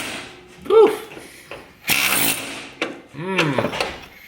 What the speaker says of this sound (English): So we did a combination of drilling and air hammering and stuff.